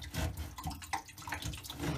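Water drains from a bathroom sink P-trap into a bucket, a faint, steady splashing trickle close by.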